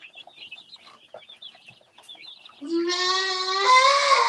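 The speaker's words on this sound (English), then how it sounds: "I have a goat having a fit." A goat having a fit lets out a long, loud, strained bleat after a stretch of faint chirping and scattered small sounds.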